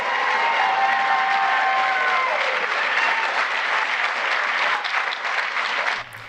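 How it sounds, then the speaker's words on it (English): A dense, loud wash of audience clapping with scattered cheers and whistles. It holds steady for several seconds, then drops off abruptly at the end. "what are you guys cheering and clapping for?"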